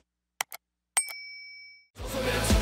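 A subscription bell sound effect: two quick light clicks, then a bright metallic ding that rings and sustains for about a second before music cuts in.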